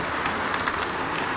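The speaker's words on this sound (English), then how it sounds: "So we're getting a ride on the train." Ride-on train rolling along a newly laid backyard track, a short steady rushing rumble with faint clicks, close and continuous.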